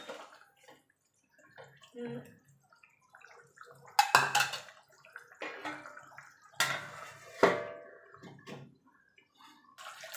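Fish curry with potatoes bubbling in a pot, with faint intermittent gurgles and watery pops plus a few louder close splashes and clinks, all fairly quiet.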